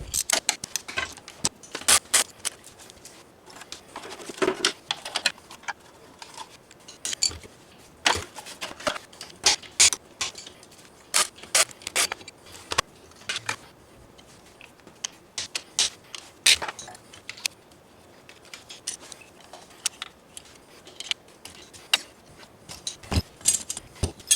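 Electric motor being removed from a vehicle during an F3/F5 motor swap, with scattered metallic clicks, taps and rattles of tools and parts, irregular and close, some bursts clustered, no talking.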